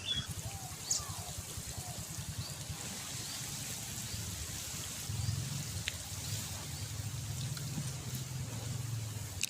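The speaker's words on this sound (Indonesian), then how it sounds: "Sekarang langsung kita siram ya, supaya dia mungkin bisa terselamatkan." Water is poured onto dry soil around potted basil plants, a continuous soft splashing trickle that runs steadily and grows slightly fuller midway, with faint background sounds.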